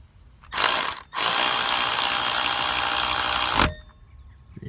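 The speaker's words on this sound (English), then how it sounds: "we'll just tighten down our bolt here, the same as we did the other one" A ratchet wrench tightens a 15 mm bolt on a 2001 Ford Transit Mk6 belt tensioner, producing a loud, close, continuous clicking run that halts briefly, then resumes for about two and a half seconds before stopping.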